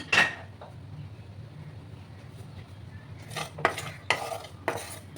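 A spoon scrapes a hot pan of dry-roasting poppy seeds and white mustard seeds: one sharp scrape at the start, a quiet pause, then four quick scrapes in a row near the end.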